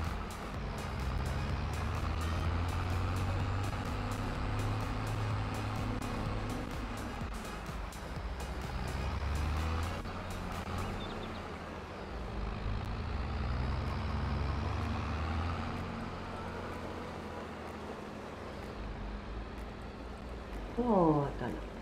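A tractor in Farming Simulator 22 drives along during silage baling, its low diesel engine droning steadily and shifting in pitch as it moves, with someone talking over it.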